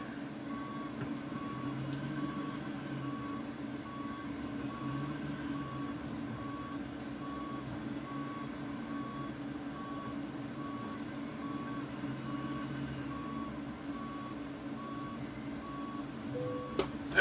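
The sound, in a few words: truck reversing with beeps while backing in trailers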